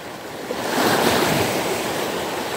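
Waves on a slightly choppy sea wash in a continuous broadband roar, swelling after the first half-second and holding steady, with some wind buffeting the microphone.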